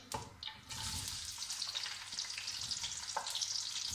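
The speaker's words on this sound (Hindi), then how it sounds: "अब इसके अंदर हम प्याज डालते हैं" Onions drop into a preheated pan and start frying, a sudden burst of hissing that settles into a steady moderate sizzle with a few light stirring sounds, no voices.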